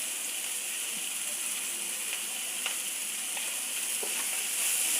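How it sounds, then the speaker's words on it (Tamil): Carrots, cabbage and a few green chillies sauté in hot oil, giving a steady, even sizzle throughout with faint occasional clicks of a spoon or pan, moderately close and with no voices. "ஒரு 2-3 பச்சை மிளகாய், இந்த கேரட்டு, கோஸு முதல்ல எண்ணெயில் கொஞ்சம் வதக்கிக்கலாம்"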